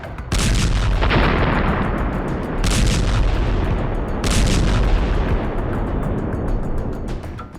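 Bombs fall on Gaza City in heavy blasts, several loud booming explosions with rolling rumble between them, recurring roughly every one to two seconds with no talking.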